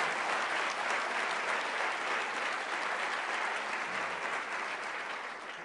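Sustained audience applause at a Pride event for foreign affairs staff, a dense, even wash of clapping that holds steady and begins to taper near the end, with no voices over it.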